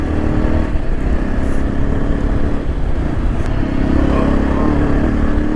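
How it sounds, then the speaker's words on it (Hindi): A Yezdi motorcycle rides a slippery, overgrown off-road trail in Himachal Pradesh, its engine droning loud and close without pause as the tyres slide, with faint clatter over the steady roar. "तो इसकी वजह से बार बार बाइक ना स्किड कर रहा है हल्का सा ऐसे।"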